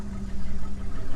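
A 1988 Plymouth Gran Fury with a carbureted 318 V8 idles smoothly, a steady low rumble with a slight pulsing throb, close and fairly loud, with no voices over it.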